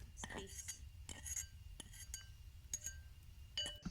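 Pumpkin mashed for Assamese pumpkin pitika, a utensil clinking and scraping against a bowl in short irregular bursts, soft and close with quiet room noise between strokes.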